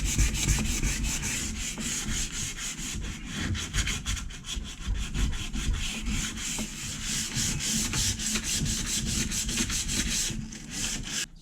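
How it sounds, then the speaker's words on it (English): Steady, rapid back-and-forth sanding on a boat cockpit, a dense rhythmic rasping that runs continuously and loudly with no pauses or talking. "So I have been doing a lot of sanding."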